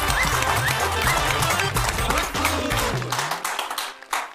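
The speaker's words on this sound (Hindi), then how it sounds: "हम उनके लिए जोरदार तालियां बजाएं।" An audience at a Hindi comedy poetry gathering gives a fairly quiet round of clapping for a comedic poet, with tonal sounds underneath, tapering off toward the end.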